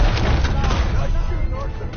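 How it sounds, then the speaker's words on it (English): Gunfire in the Red Dead Redemption 2 video game, a dense, rumbling mix of booming shots under overlapping voices, loud and continuous. "Nice shooting, Arthur."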